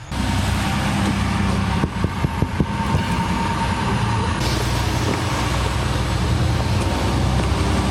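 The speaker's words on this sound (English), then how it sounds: "I hear the concrete truck." A concrete truck arrives early in the morning with a continuous, loud, low engine rumble and road noise. There are a few brief knocks around two to three seconds, and no talking.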